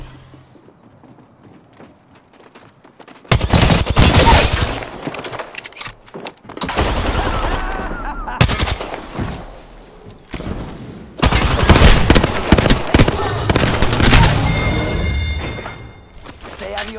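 Apex Legends gunfire arrives as loud, dense automatic bursts with mechanical clatter, several sustained volleys separated by brief pauses, while a player talks in between.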